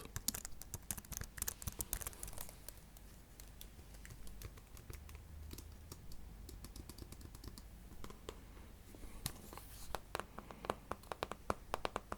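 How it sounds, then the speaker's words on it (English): Taps and keystrokes on an Apple Mac keyboard, a steady stream of close, crisp clicks with denser bursts toward the end, quiet and alone with no voices. "here is my Apple Mac keyboard"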